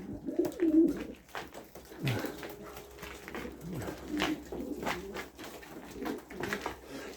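Young pigeons coo softly and repeatedly at close range, with soft rustling and faint background sounds between the calls.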